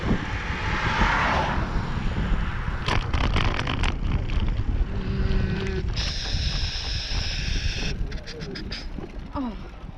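Strong headwind buffets the microphone on a Saturday bike ride, a constant heavy low roar with gusts throughout and faint voices and other sounds mixed in.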